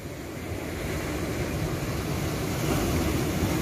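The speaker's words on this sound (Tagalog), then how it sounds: "Ang ganda ng alon." Sea waves wash against the shore at Tap Mun (Grass Island), Hong Kong, a steady broadband surge with wind, swelling slightly louder near the end and heard alone without talk.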